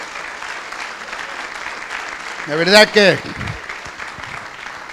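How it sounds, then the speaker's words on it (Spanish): Continuous applause from a church congregation during a sermon, carrying on under a preacher's voice, which briefly rises to a loud exclamation. "Denle un aplauso al Señor"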